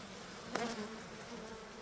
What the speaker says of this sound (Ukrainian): Потривожили бджіл.